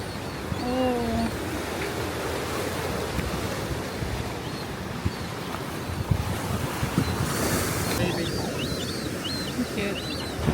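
Ocean waves wash steadily along the rocky La Jolla coast, a continuous surf roar with wind buffeting the microphone, while people chat nearby and birds call faintly in the background.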